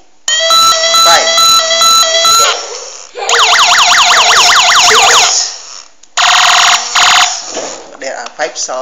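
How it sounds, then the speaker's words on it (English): Loud electronic siren patterns from a battery-operated toy police car: a fast on-off pulsing tone, then a rapid warbling yelp, then more pulsed bursts after a short break. "There are 5 sounds of police car."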